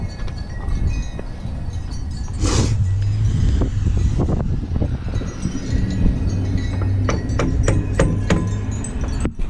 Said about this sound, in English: That way you can tap that brake pin through there.